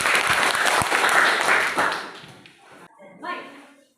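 Students in a classroom clap together for about two seconds, a dense, close burst of applause that thins and fades, followed by a brief voice.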